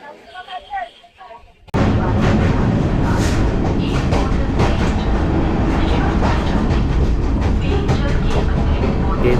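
A passenger train on the route from Badkulla to Delhi rolls along the rails with a loud, close, continuous rumble and rattle. It starts abruptly after a brief stretch of quieter cabin noise with faint voices.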